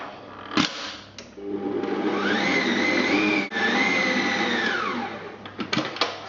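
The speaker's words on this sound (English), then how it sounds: "just give it a quick whisk together again" Electric whisk beating a runny cake batter with toffee flavouring for sticky toffee squares, a steady loud motor whir that rises slightly in pitch mid-run, with clunks as it starts and stops.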